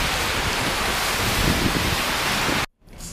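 Steady outdoor rain hisses evenly and fairly loudly, filling the space with a dense broadband wash, then cuts out abruptly for a moment near the end before resuming more softly.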